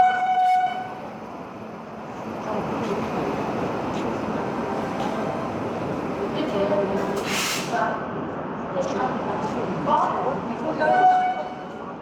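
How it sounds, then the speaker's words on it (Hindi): The Patna–Mumbai LTT Janta Express pulls into a platform with a steady rumble of rolling wagons and a loud horn blast midway, while crowd noise and voices fill the station around it. "पीछे आ रही है ट्रेन, अब मैं आपको इसकी शंटिंग यानी कि अराइवल दिखाता हूँ"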